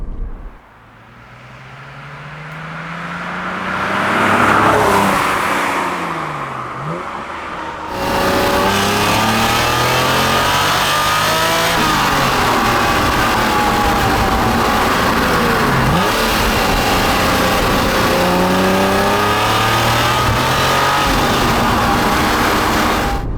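A 1991 Honda NSX sports car engine, 276 horsepower, revs and accelerates hard through several gear changes, loud and close, with rising and falling engine pitch.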